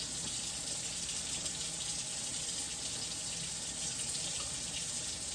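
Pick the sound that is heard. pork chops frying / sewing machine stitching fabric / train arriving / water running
water running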